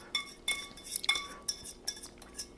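Metal utensils clink and rattle as a spatula is grabbed from among them while making an apple rose bouquet tart, several sharp close chinks in an irregular cluster, no talk.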